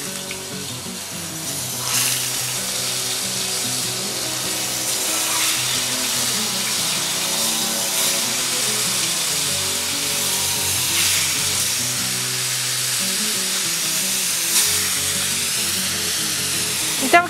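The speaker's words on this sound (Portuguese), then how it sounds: "Aqui a panela já está bem quente, porque assim ele tem que colocar e já começar a fritar na hora." Fish frying in olive oil in a very hot pan, a loud, steady, close crackling sizzle that runs without pause, with a few faint bumps and clicks.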